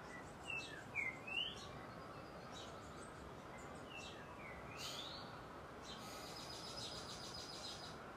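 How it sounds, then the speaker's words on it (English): Birds chirping around Lake Atitlan, a few faint, brief calls and tweets over a steady outdoor hiss, mostly near the start, with no talking. "while you are hearing the birds around you, the sound of nature"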